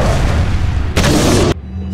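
A bomb blast in the video game Resident Evil 4: a dense, loud booming burst with heavy low rumble that cuts off abruptly and leaves a quieter rumbling tail.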